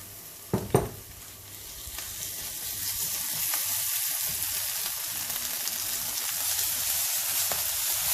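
Minced garlic and ginger cook in a hot pan, opening with a brief clatter and then settling into a steady, close sizzling hiss that slowly builds. Nobody speaks.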